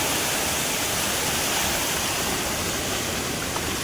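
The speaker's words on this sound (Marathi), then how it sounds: "इथून या दहन बांधाला ओव्हरफ्लो झाला आणि हा पाणी आता इथून खांड दिले" Floodwater from torrential rain overflows a village dam and rushes past as a steady, dense, loud roar of turbulent water with no pauses and nothing else audible above it.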